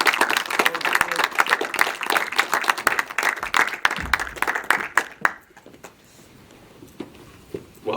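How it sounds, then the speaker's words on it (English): Audience applause for Charlie Walker after a documentary screening, dense and steady clapping for about five seconds before fading to scattered claps and room noise, with a voice faintly underneath. "if everyone would like to give him a round of applause"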